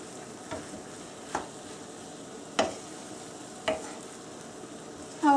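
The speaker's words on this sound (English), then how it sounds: "stir the stir fry" Vegetables stir-frying in sweet and sour sauce give a steady low sizzle, broken by several sharp scrapes and clacks of stirring spread across the stretch, with no one speaking.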